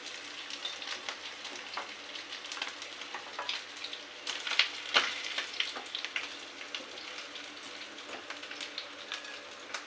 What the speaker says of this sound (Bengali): এবারে যে চিংড়ি মাছটা ভাজা হয়ে গেছে